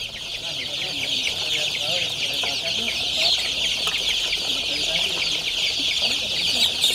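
Native village chickens cluck and chatter steadily on a poultry farm, a dense continuous flock murmur with many overlapping calls, fairly loud and close throughout.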